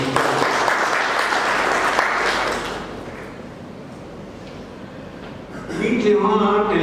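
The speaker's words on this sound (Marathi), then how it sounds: "याच्यासाठी थोड्या टाळ्या होऊन त्यांना." An audience at a Saraswat community book-launch ceremony claps loudly for about three seconds, the applause fading into quieter room noise before a brief renewed burst at the end.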